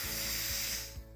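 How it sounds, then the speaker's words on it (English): Steam vents from an Instant Pot electric pressure cooker during a quick release: a loud, steady hiss that holds for about a second, with faint rhythmic clicking beneath it, then drops off sharply. "We're just gonna do quick release"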